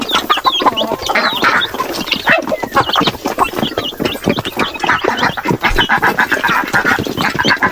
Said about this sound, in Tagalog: Ayan yung ating mga maliliit na sisiw.